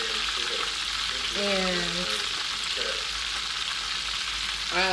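Egg rolls deep-fry in oil with a steady, even hiss throughout, while a voice speaks briefly over the bubbling.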